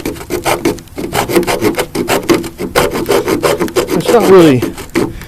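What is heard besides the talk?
M48 Bowie knife saw edge sawing oak wood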